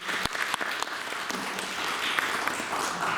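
Steady applause from an audience after a mathematics lecture, dense clapping filling the whole stretch with a few sharper claps standing out near the start.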